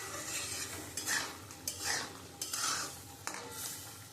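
Boiled chickpea dal being stirred and sautéed in a pan, with a spoon scraping and clinking against the metal in repeated strokes over a soft, steady sizzle, close up and without talk.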